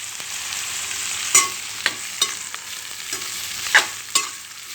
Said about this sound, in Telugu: ఇప్పుడు టమాటా ముక్కలు వేసుకుందాం. కట్ చేసి పెట్టుకున్నటువంటి టమాటా ముక్కలు వేసుకోవాలి.